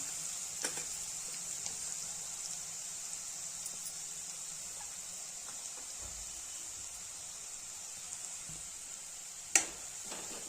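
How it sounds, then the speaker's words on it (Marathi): An onion, garlic and chilli masala paste with turmeric fries steadily in a pan for a drumstick-flower vegetable dish, a continuous high, even sizzle with a few faint clicks and one sharp clink near the end. "बघा आपला मसाला छान परतून झाला"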